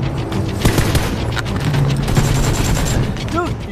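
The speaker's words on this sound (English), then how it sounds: "Dude, you just got shot in the face." Gunfire from an M16 rifle in the battle royale game PUBG, a dense run of loud shots over steady game noise, with talk in the background.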